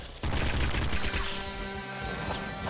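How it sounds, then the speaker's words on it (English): Rapid pop rifle gunfire from the Nuclear Throne video game, a dense continuous burst of small crackling shots lasting nearly three seconds with no talking. "I think that's just the pop rifle."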